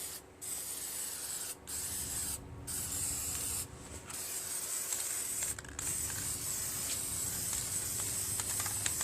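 Aerosol spray paint hisses in several bursts with short pauses, coating a part on a Briggs & Stratton 17.5 HP engine being rebuilt, with faint mechanical handling sounds between sprays.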